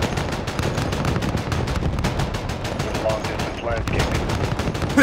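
Helicopter gun in Call of Duty: Modern Warfare fires a loud, continuous rapid stream of rounds that fills the whole stretch, dense and close, with faint radio-style voices underneath.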